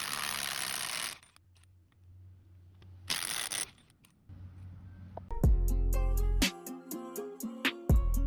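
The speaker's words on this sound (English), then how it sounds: "Taking off the lug nuts." Lug nuts come off with a socket: two short bursts of rapid mechanical whirring and ratcheting, then a series of sharp metallic clinks and clanks of loose metal parts.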